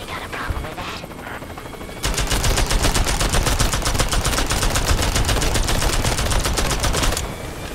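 Rapid automatic gunfire in the video game Worms W.M.D., a dense rattling burst of evenly spaced shots lasting about five seconds over a busy game soundscape.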